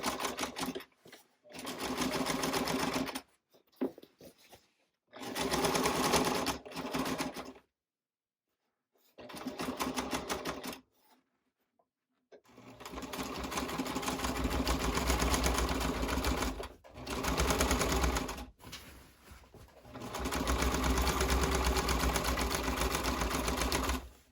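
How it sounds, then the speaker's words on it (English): Sewing machine stitching a tote bag, close and loud, running in bursts of rapid even stitching separated by brief pauses and short silences. "And I'm going to continue sewing."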